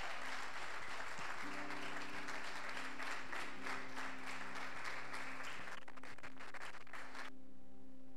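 A church congregation applauds steadily as a broad, continuous clapping wash over a low sustained musical drone, with the clapping cutting off near the end.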